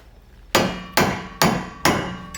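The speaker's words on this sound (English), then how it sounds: "Take a nice heavy hammer." Four heavy metallic strikes from a 2-pound mini sledge hammer on a punch, removing NB Miata rear suspension, land at an even pace, each sharp hit followed by a short ringing decay.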